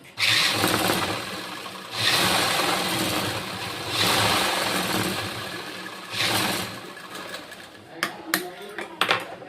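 Sewing machine stitching the side seams of an embroidered blouse, several separate bursts of motor hum separated by short pauses, followed by small clicks and handling sounds.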